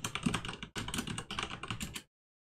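Fast typing of a password on a computer keyboard on a Manjaro Linux machine: two close bursts of quick key clatter with a brief pause between, ending abruptly in silence.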